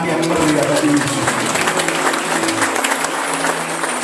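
A large crowd claps loudly and continuously, a dense wash of applause lasting a few seconds.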